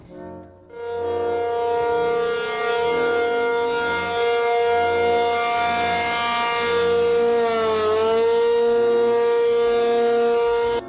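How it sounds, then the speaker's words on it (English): A power interruption warning siren, compared to a lawnmower, drones loud and steady after a brief start, with a buzzing, engine-like tone that wavers and dips once before holding again. "This one sounds too literally similar to a lawnmower as well, but it's power interruption"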